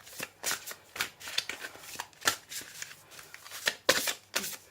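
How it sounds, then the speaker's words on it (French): Tarot cards being shuffled during a reading, a run of crisp riffling bursts and soft slaps repeating irregularly, close and clear with no talk. "On va faire une dernière carte"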